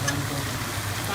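Cabbage goes into chicken already sizzling in a pan, giving a brief, steady, even hiss close up with no talking.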